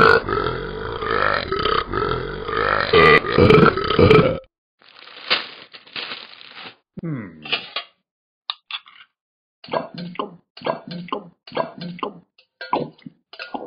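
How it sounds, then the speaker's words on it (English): Talking Ben, the cartoon dog from the mobile app, belts out a loud, long burp, then a broken string of shorter burps and crinkly newspaper rustles with silent gaps between them. "This is called the burping song with newspaper."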